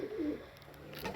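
Pigeons being fed give a brief soft coo near at hand, a low throaty warble at the start with faint flutters and pecks after.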